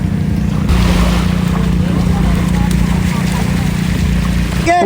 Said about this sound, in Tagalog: May bangka na naman po na dumating.